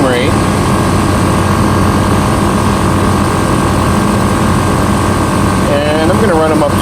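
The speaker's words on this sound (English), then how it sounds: "Just hooked up to the battery, standard air compressor setup." A standard battery-powered air compressor inflates a Jeep's off-road tires evenly through an equalizing air system, giving a loud, steady droning hum with a constant mechanical whine that runs unbroken throughout.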